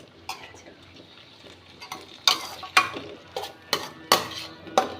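Mint and coriander are sautéed in a pan for an egg thokku, with a spoon scraping and stirring in sharp, irregular clanks against the metal over a faint background sizzle.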